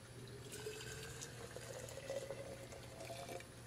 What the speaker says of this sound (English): And I can go ahead and pour that